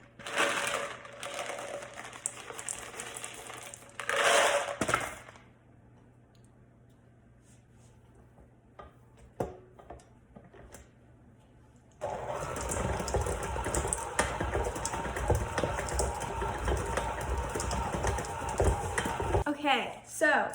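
Semi-sweet chocolate chips being stirred into cookie dough with an electric mixer, whose whirring runs in two loud stretches separated by a quieter gap with light clinks and handling noises.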